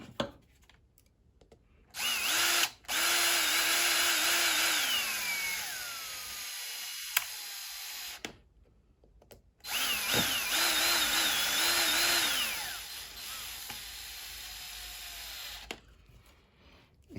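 Power drill driving screws into a 3D printed bead lock wheel for a TRX4, two loud whirring bursts with rising and falling motor pitch, separated by pauses and light handling clicks.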